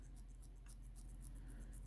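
A wristwatch crown being wound by hand gives a very faint, rapid series of tiny mechanical clicks in a quiet room, steady and close, with no talking.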